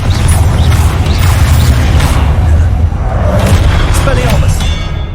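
Confringo blasting spell going off in the Hogwarts Legacy video game, a loud continuous booming roar with heavy low rumble and crackling debris that persists throughout, layered with game sound and some voice.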